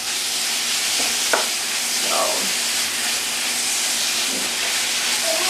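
Fat renders in a hot pan for frijoles charros, a steady broadband sizzle and hiss running throughout with a few faint clinks of stirring, close and continuous with no talking.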